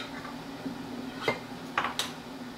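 A metal canning lid set onto a glass jar during water-bath tomato canning gives a few light clinks and taps, close by, with quiet pauses between them.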